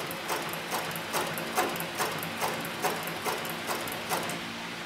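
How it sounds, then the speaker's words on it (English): A Cowboy 105 leather sewing machine on a servo motor running at its slowest speed, using size 277 thread and a 328 needle, gives a steady, evenly spaced mechanical clack of slow stitches, close and alone. "this right now is as slow as the motor will go, and you can see the stitching is very, very slow, very, very controlled"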